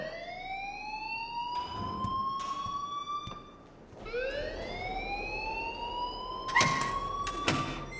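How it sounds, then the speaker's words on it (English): A fire alarm sounds in the Life is Strange video game, with a loud rising electronic siren tone that sweeps upward and repeats in cycles of about four seconds. Sharp clicks and short bright beeps cut through near the end. "please turn off that alarm since that's your job"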